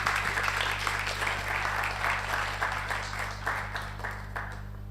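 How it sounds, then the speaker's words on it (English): Soft applause from an audience as a performer walks onto a stage, steady light clapping over a constant low hum, fading slightly toward the end. "everyone give a big round of applause for Eunice"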